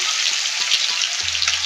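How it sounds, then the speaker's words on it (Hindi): Rohu fish fries in a pan with a loud, dense hiss of sizzling oil, close and continuous, with a low hum entering near the end. "उसके बाद मछली फ्राई होगी।"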